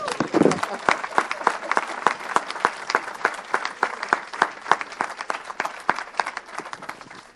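A church congregation applauds with rapid, rhythmic clapping, a loud burst at first that settles into a steady, even beat, with a voice calling out briefly at the start.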